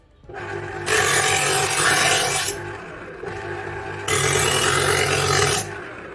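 A knife being drawn through the built-in sharpener of a Kenwood can opener: two long, loud gritty rasping strokes over the steady hum of the electric motor.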